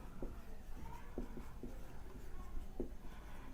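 Pen writing on paper during a physics lesson on a meter bridge, faint scratchy strokes at an irregular pace close to the microphone, with a few soft taps of the pen against the page.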